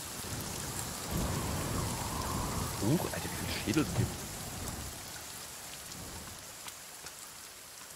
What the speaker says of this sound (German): Boah, der Regen ist voll laut.